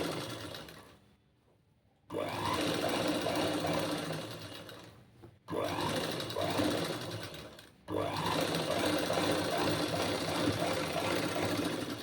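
A sewing machine stitching a boat neck blouse, running in three long, steady bursts of rapid mechanical whirring, close and loud, with short silent pauses between runs.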